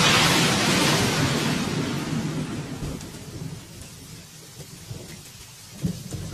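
Heavy thunder from a lightning strike on a pine tree in a forest, opening as a loud rumbling crash over steady rain, then fading into rainfall with a low distant rumble and a small late burst.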